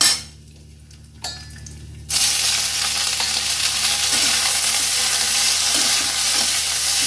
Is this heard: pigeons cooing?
no